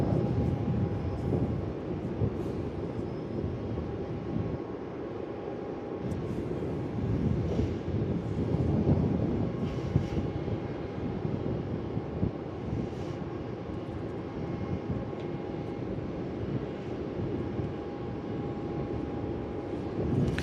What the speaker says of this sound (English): here comes Qantas 36 on final